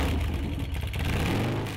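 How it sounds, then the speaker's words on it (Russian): A customized 2003 Harley-Davidson motorcycle with 400,000 km on it revs close by and pulls away, a loud, rough engine roar that swells and holds steady. "Не менее удивляет и мотоцикл Чарли, переделанный Харлей 2003 года с пробегом 400 тысяч километров"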